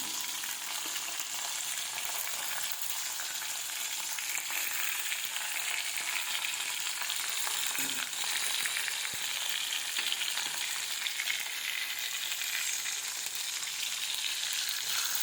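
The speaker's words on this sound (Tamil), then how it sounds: "எல்லாத்தையும் நல்லா வதக்கிக்கலாம்." Onion and garlic with salt and turmeric sauté in a pan, giving a continuous, dense crackling sizzle at close range, with faint stirring scrapes and no voices.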